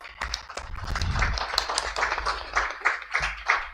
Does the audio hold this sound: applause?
yes